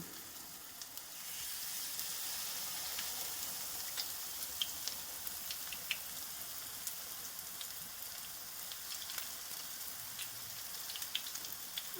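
Steady sizzling of eggplant rolls frying in a covered pan, a continuous crackling hiss with scattered pops, fairly quiet and close, no voices.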